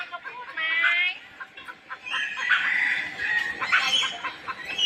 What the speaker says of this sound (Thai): น้องพชรจะจับไก่อย่างเดียว